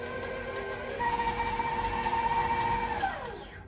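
A handheld electric mixer whirs steadily as it beats chocolate chip cookie dough, a motor hum that rises in pitch and intensity midway, then eases off near the end, with no talking.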